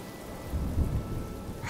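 Rain and thunder in the video game Honkai: Star Rail, a steady rain hiss under a low rolling rumble of thunder that swells briefly in the middle.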